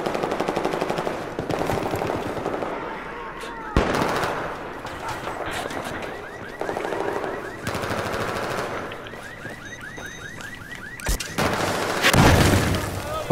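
Battlefield 4 combat with sustained machine gun fire and blasts, including an RPG explosion, loud and dense throughout, with a heavy burst near the end and voices faintly beneath.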